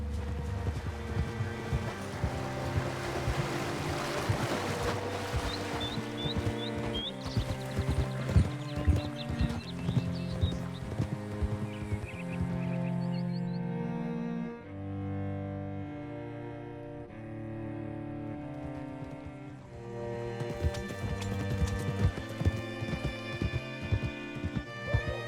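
Horse hooves clip-clop steadily in Red Dead Redemption 2 as riders approach Newberry Creek, set under continuous game music that swells and thins throughout.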